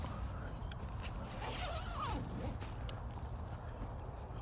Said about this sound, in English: I'll just zip this closed now that we've been through that.